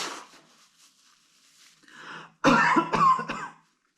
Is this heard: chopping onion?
no